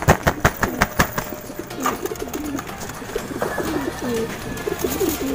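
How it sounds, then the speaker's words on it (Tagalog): Pigeons coo repeatedly as the flock emerges from a loft, with a rhythmic wing clapping at the start and a steady layered murmur of coos throughout, fairly close and moderately loud. "Ayan sila mga kalapatids"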